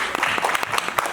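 A brief burst of audience clapping at a Nepali entertainment event, with dense overlapping hand claps heard close and steady for about a second.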